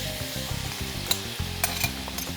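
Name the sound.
onions frying and being stirred in a pan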